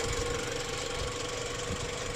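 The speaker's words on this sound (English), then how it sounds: "just a regular old petrol engine, probably about a 2 litre or something like that" Petrol engine of around 2 litres in a Mitsubishi ASX running steadily, a continuous even hum with a faint whine, heard close with no talk.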